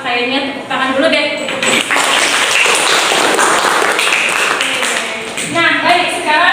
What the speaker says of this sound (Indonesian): Kita kayaknya tepuk tangan dulu deh.